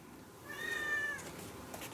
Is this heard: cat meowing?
yes